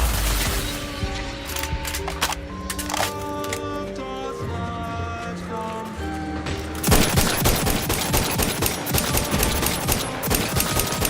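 Tonal in-game music plays in Outer Worlds 2, then a heavy burst of sustained gunfire breaks in and keeps up a dense, loud rattle to the end.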